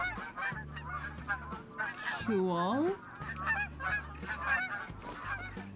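Geese honk in the hunting game theHunter: Call of the Wild, several nasal honks, one long rising call standing out, over low game ambience with someone briefly talking.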